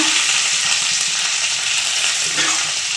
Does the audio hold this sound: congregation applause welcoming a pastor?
no